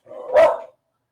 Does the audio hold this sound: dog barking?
yes